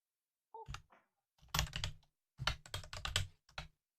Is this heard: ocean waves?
no